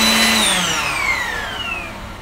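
Tefal Air Force Extreme Lithium cordless stick vacuum cleaner, a loud, close motor whine whose pitch glides gradually downward as it winds down over about two seconds, with no speech.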